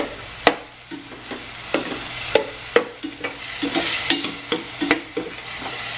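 Chopped tomatoes softening in a hot pan, with a steady low sizzle broken by repeated sharp clinks and scrapes of a spoon stirring against the metal, close up and with no talking.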